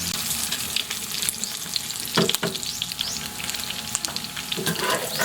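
Pork belly frying in its own rendered fat, a loud, close, continuous sizzle with occasional sharp spatters and stirring clatter.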